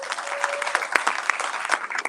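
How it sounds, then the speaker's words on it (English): An audience at a lecture claps in a burst of scattered, fairly close applause, individual hand claps popping out over a brief steady patter. "give an applause for all the people who volunteer their time"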